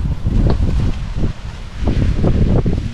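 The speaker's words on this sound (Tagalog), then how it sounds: "medyo mahangin lang" Gusts of wind buffet the microphone in uneven bursts, a low rumbling roar with rustling over a few seconds, outdoors while cooking.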